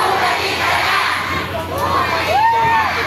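A large crowd at a street rally shouts and cheers in a loud, continuous roar, with children's voices rising above it and a swelling shout near the end.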